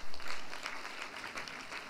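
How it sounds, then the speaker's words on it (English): A convocation crowd at a university ceremony gives the vice chancellor a round of applause: a faint, diffuse, steady wash of many hands clapping, heard from a distance in a large hall. "the Vice Chancellor deserves a better round of applause"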